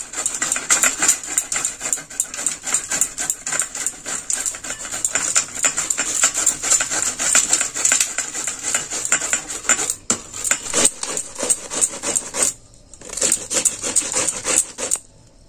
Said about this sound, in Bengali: এইভাবে আমি মূলোটা কুড়ে নিচ্ছি।